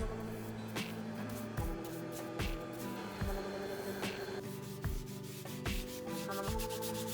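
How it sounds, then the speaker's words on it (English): A redgum burl wooden bowl being sanded: a steady, droning hum under repeated rhythmic rubbing strokes, close and continuous with no voices. "I then sanded and finished the bowl with shellac and linseed oil."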